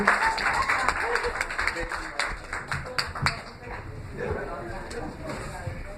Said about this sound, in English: Give a good round of applause for Donnell, please.